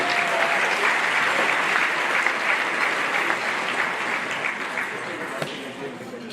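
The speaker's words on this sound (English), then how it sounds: "Let's give another big round of applause to Orkian." Sustained applause from a gala audience at an Armenian American museum event in Los Angeles, a steady, dense clapping that fills the room and slowly tapers, with some voices mixed in.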